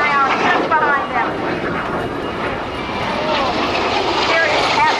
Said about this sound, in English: Now here comes Snort in a nice photo pass, low to the ground